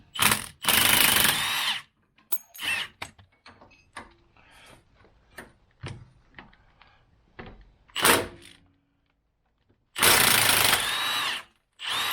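A power tool whirs in loud bursts while removing the sway bar links on a Jeep, with a long burst at the start and end and scattered clanks, clicks and tool handling sounds in between.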